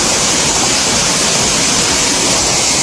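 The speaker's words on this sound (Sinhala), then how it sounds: "මෙතන තාම තව ඇල්ලක් තියෙනවා පොඩි." A small waterfall tumbles over rocks beside a built water channel at a bathing spot near Thotas Ella, giving a steady, loud, close rushing roar with no break and no voices.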